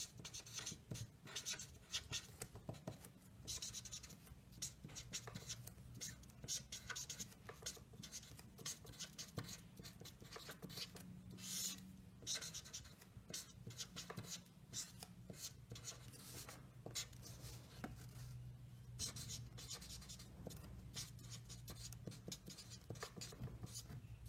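A pen scratches and rubs steadily across paper, close and quiet, in a continuous run of short strokes with a soft background hum and occasional faint low voice.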